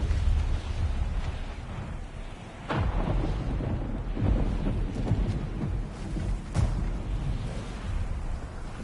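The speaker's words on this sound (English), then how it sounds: "Just a little thunder." Thunder rumbles in God of War Ragnarok, a deep continuous roar with sharper cracks and surges, loud and close, with no voices.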